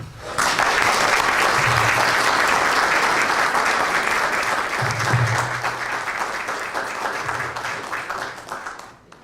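Lecture hall audience applauding to welcome a speaker, dense sustained clapping that starts abruptly, stays loud and even, then gradually thins and fades toward the end.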